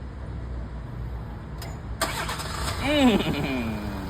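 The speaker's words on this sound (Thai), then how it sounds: "เราสามารถสตาร์ทได้เช่นกัน" A Ford car engine starts via Digital Key with a sudden crank that catches into a rising rev, then settles toward idle, close by. Someone talks over it.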